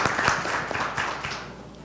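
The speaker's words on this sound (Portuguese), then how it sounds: "Pode aplaudir." Brief audience applause at a corporate seminar closing, a short burst of scattered clapping from a modest crowd that fades quickly.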